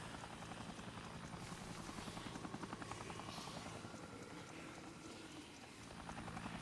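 Army helicopter in the video game Dead Rising, its rotor chopping loud and steady throughout with a dense whooshing wash, the beat briefly thinning before swelling again.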